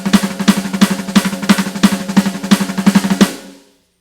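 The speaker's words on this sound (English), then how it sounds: "If he were single stroke rolling, it might sound like this." A drum set is struck in a fast single stroke roll, evenly spaced sharp hits about six or seven per second, loud and close, ending with a short ringing decay.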